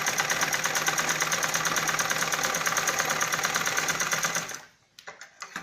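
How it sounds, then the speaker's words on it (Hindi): Steady, loud mechanical chatter of a sewing machine running a straight stitch through balloon salwar fabric, continuing for several seconds before stopping abruptly, followed by a few faint handling noises. "इसको उठा के सीधी सिलाई लगा लेंगे इसमें"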